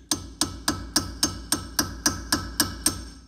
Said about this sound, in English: Now I have a punch, and if you hit the cone washer at the split,